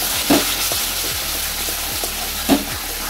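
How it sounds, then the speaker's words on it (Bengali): Ground spices, garam masala and cumin powder, sautéing with a splash of water in a pan for an Odisha-style alu dum, a steady soft sizzle broken by two louder spatters and a few light stirring scrapes. "ভালো করে একটু জল দিয়ে কষিয়ে নেব।"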